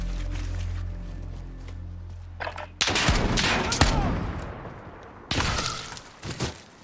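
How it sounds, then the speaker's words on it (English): Marksman rifle gunfire rings out in Modern Warfare, with loud sharp bursts and cracking impacts arriving in two dense clusters after a low rumbling lead-in. "Marksman's rifle"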